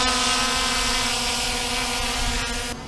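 A Holy Stone 700 drone carrying a GoPro camera flies close by, its rotors giving a steady, loud, whining buzz that holds throughout before dipping slightly near the end.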